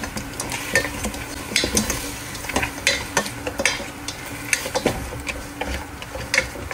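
Whole spices such as cardamom, cinnamon, bay leaf and lemon are stirred in a cooking pot for an oat and meat soup, with repeated close scraping and clattering strokes over a light sizzle.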